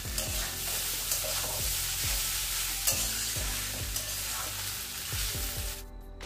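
Vermicelli pulao fried in a pan for breakfast, a continuous sizzle broken by regular scraping stirs about once a second, close and steady.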